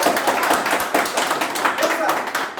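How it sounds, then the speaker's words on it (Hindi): Loud, sustained applause from a crowd at a farmers' meeting, dense rapid clapping filling the whole stretch with no talk over it. "इस पहल के लिए जोरदार तालियां होनी चाहिए।"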